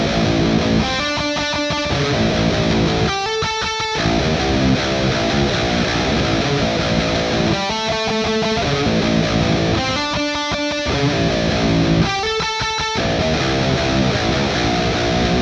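Distorted electric guitars play a harmonized riff in chunky, repeated bursts over a full band backing, loud and steady throughout.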